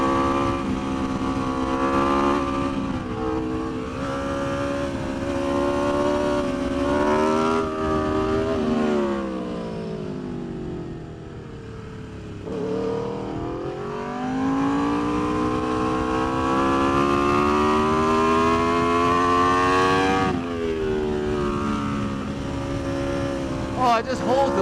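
An Aprilia RSV4 RF superbike engine screams on a race track, revving high and steady, dipping into a deeper drop mid-run before climbing back to a hard, loud wail, heard close from the bike while a rider talks.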